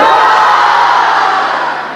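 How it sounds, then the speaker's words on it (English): A school assembly audience of children roars together in one loud, sustained crowd shout that holds steady, then fades slightly at the end. "When I say 3, everybody in the audience roar."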